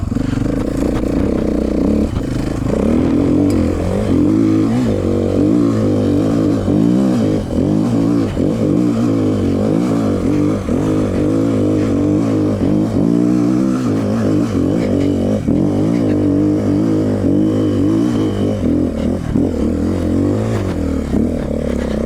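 A KTM 450 dual-sport motorcycle revs and labors up a very steep hill, its loud engine note rising and falling continuously with clattering and scraping from the rough terrain, close and alone throughout.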